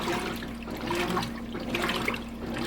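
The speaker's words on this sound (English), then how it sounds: "All right, draining that water out nice and fast. Hear it draining out." GE washing machine draining water from a large load of towels, a steady rushing, gurgling flow with a low pump hum underneath, continuous and close throughout.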